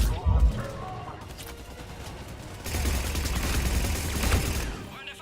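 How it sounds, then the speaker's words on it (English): Battle gunfire in the video game Mass Effect 3, bursts of shots and impacts that grow into sustained heavy firing in the second half, mixed with game noise. "We're under fire."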